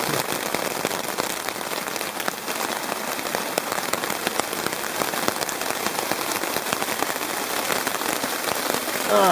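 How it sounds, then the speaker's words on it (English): Steady rain patters densely on a DD hammock-camping tarp in Scotland, a constant close crackle of countless drops hitting taut fabric, loud and continuous with no talking. "Still raining."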